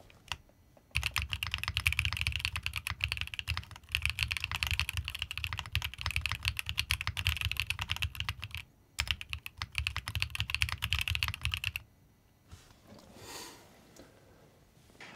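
Rapid typing on an Ajazz AC067 mechanical keyboard, dense steady clatter of keystrokes in long bursts with a brief pause, close and alone, ending in quieter handling sounds.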